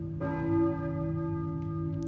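A church bell tolls in the Silent Hill video game, one resonant strike with a long, humming sustain that rings on steadily over a quiet background.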